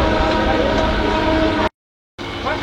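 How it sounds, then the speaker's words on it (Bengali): A train leaves Uttarpara station, its loud continuous rolling rumble cut by a sudden half-second gap of silence before resuming. "উত্তরপাড়া আমাদের ট্রেন ছেড়ে দিল।"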